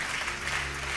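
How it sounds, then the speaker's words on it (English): Applause from a tech panel audience, a dense even wash of many hands clapping together, steady and fairly loud for a brief moment. "A round of applause."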